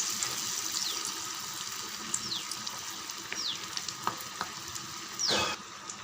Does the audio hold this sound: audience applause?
no